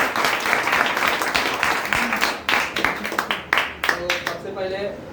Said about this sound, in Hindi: एक बार जोरदार ताली की।